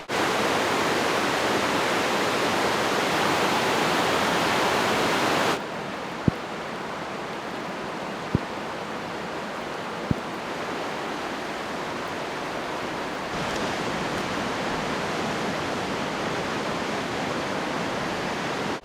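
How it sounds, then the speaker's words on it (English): A big whitewater river rushes with a steady, loud, broadband roar that fills the scene without a break, briefly dropping in level partway through, with a few faint ticks over the flow. "This is a really big river."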